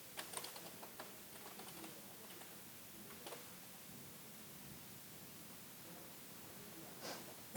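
Faint, sparse keystrokes on a computer keyboard while typing code, scattered soft clicks in short bursts against quiet room noise.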